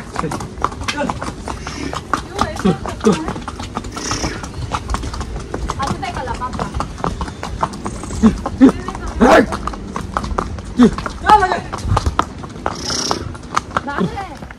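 Horses' hooves clip-clop steadily on a pony ride in Pahalgam, with uneven, overlapping hoofbeats from several animals going on under almost constant talking by the riders.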